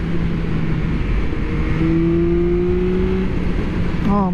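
A 2023 Yamaha MT-09 SP motorcycle engine pulls hard under wind rush, its steady tone climbing as it accelerates, then dropping with a quick gear change near the end.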